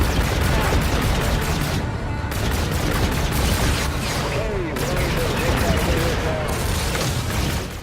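Missiles launched during a Call of Duty: Infinite Warfare fight, heard as a dense, loud, unbroken barrage of firing and booming blasts layered over a constant roar, with no quiet gaps across the whole stretch.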